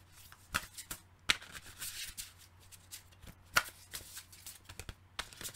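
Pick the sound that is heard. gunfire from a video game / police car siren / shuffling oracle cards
shuffling oracle cards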